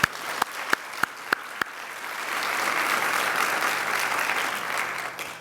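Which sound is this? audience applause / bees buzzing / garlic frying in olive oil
audience applause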